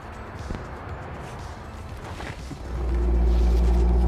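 A 1991 Chevrolet Corvette ZR1 with its LT5 V8 rumbles at idle and then settles into a louder, steady, deep drone that stays close and continuous to the end.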